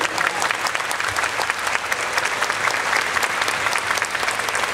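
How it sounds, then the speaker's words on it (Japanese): An audience claps warmly and steadily at a ceremony marking a hula dancer's final stage performance in a Polynesian show, with a thick wash of applause throughout and no voices standing out. "そしてこの温かい拍手、"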